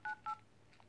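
Keypad tones from the dialer on a Motorola Moto G 2015 third-generation phone: two short, clear DTMF beeps in quick succession, then a fainter soft blip, heard alone and close.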